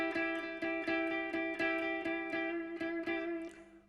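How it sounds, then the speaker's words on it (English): A 1995 electric guitar lesson lick in A, played as a run of evenly spaced plucked notes with a slight string bend that gives a whiny edge. The clean tones ring brightly and sit alone, fading toward the end. "Pull the string slightly as you do it because it gives you that kind of nice whiny effect"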